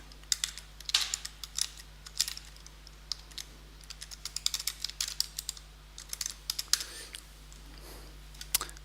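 Someone types an image description on a computer keyboard: quiet, irregular clusters of key clicks and taps across the whole stretch, with no talking.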